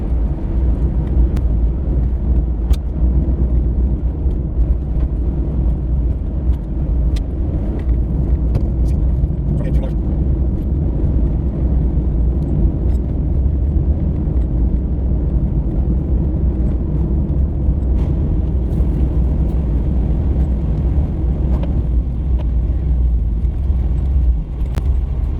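A Suzuki Carry mini truck drives along a road, its engine and road noise forming a steady low rumble from inside the cab, with occasional faint rattles and clicks throughout.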